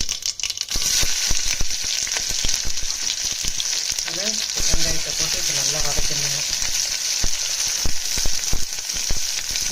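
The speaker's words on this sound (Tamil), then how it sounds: "ஒரு கால் ஸ்பூன் கடுகுங்க கடுகு பொரியல் வரைக்கும் கொஞ்ச நேரம் ஒரு ஒரே ஒரு ஃபைவ் செகண்ட்ஸ் வெயிட் பண்ணிவிட்டு கடுகு பொரிஞ்சிடுச்சு" Quarter spoon of mustard seeds spluttering in hot oil for a nut kurma, a steady loud sizzle with dense crackling pops and some clattering stirring through the middle.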